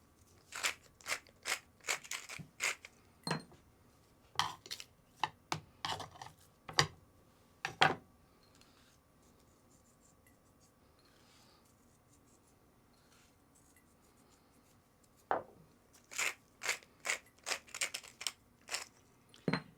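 Salt and pepper being ground over pork chops, with quick bursts of crunchy, crackling grinder clicks, a pause of near-silence, then another run of grinding, close and fairly faint.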